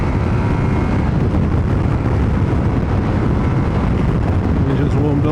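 Ducati Multistrada V4 RS motorcycle engine, warmed up, heard while riding: a steady, loud low rumble with wind roar, continuous and unbroken throughout.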